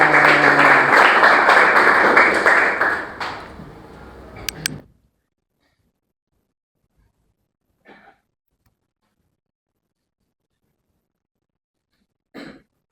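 Classroom group applause in a school lesson, a burst of clapping for about four seconds that cuts off abruptly, followed by near silence with a few faint scattered sounds.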